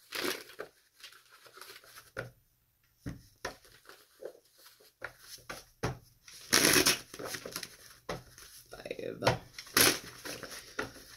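Tarot cards are shuffled by hand in bursts of crisp riffling and soft shuffling close up, with someone speaking intermittently.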